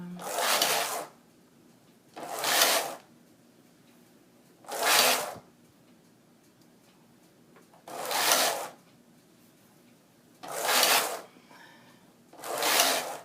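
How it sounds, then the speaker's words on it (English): A sock knitting machine runs its rows in six evenly spaced bursts of rasping, whirring carriage noise, each about a second long, separated by brief quiet pauses, close and fairly clear. "I'm just gonna knit probably 8 rows or so."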